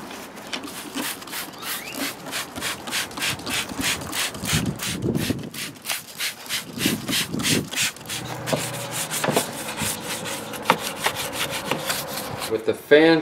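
Engine fan shroud being scrubbed clean by hand, a rapid rhythmic series of rough brushing strokes, close and moderately loud, with a few clunks and a brief scrape near the end.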